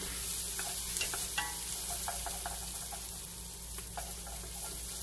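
Fresh corn and onions stirred in a pan, a steady sizzle under scattered scraping strokes of the spoon, close and moderately loud with no talking.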